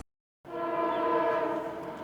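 A freight train horn sounds after a moment of silence, a single sustained multi-tone blast held loud and steady to the end.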